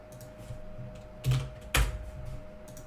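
Keys clack steadily on a computer keyboard while someone builds a website's JavaScript, with two louder bursts of strokes standing out over a faint background hum.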